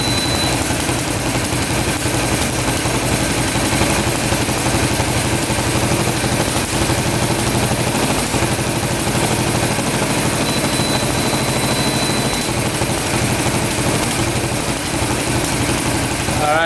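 A rare 1960s hydraulic 6x6 tank, its engine revived after sitting for years, idles without the choke in a steady, loud, close rumble with a constant low throb that holds unchanged throughout.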